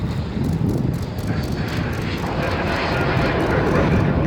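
Airplane passing over Cleveland Hopkins airport at golden hour, a steady broadband engine roar holding loud and close for several seconds with faint wind rumble beneath and no voices.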